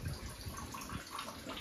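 Water from a village tank in rural Nagaland, fed by a hill source, splashes and pours in a steady, continuous wash, fairly close and at moderate level.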